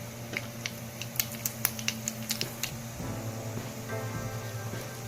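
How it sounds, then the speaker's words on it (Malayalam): Mustard seeds pop in hot ghee, a string of sharp, irregular close-up cracks over a low hum, giving way to a more continuous sizzle. "ഇതൊന്ന് നമുക്ക് പൊട്ടിച്ചെടുക്കാം"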